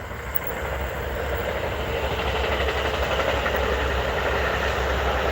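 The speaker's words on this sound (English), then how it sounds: "Here comes another train, so sorry about the noise." A commuter train rumbles past nearby, a loud broad roar of wheels and engine that builds slightly and holds steady throughout.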